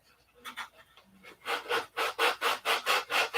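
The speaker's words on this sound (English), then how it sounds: "I want to get this sanded out here." Sandpaper working a model piece, rhythmic back-and-forth rasping strokes that start tentative and build into a steady, close, loud scrubbing.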